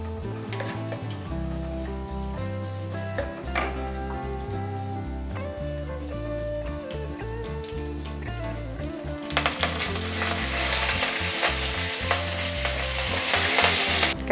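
Curry leaves frying in oil start a loud, bright sizzle that rises about two-thirds of the way in and keeps going to the end under steady background music.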